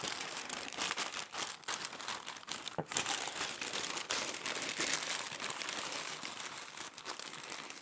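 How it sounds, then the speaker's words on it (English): Close, continuous crinkling and rustling of stiff butcher paper being folded around smoked lamb, with no talking. "I'm going to wrap it in butcher paper, pour on whatever juice came out."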